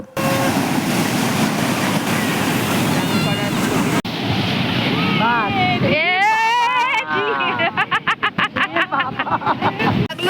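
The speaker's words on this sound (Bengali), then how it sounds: "সমুদ্রের গর্জন ছাড়া তেমন কোলাহল নেই এখানে।" Roaring ocean surf at Puri beach with wind rushing over the microphone, then a voice or call rising over the wash of the waves.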